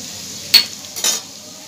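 Spices frying in a pan for soybean paneer: ginger paste with coriander, cumin and turmeric powders over browned onion. Two short scraping stirs sound over a quiet sizzle.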